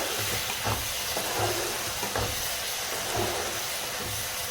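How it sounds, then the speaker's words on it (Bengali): Katla fish curry masala being fried down in a pan for a Bengali kalia, with a steady broadband sizzle and periodic low scraping strokes of stirring about every second, no talk. "একটু আরো কষাবো এটাকে। 5 মিনিট মতো এটা আরো কষিয়ে নিলাম।"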